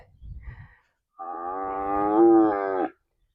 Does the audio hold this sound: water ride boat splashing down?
no